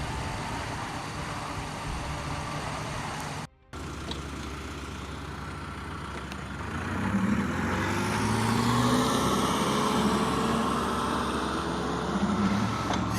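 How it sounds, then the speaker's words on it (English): A truck moving in the background at an earthworks site, a low steady engine drone that grows slightly louder midway, with no talking. "There's a truck moving in the background."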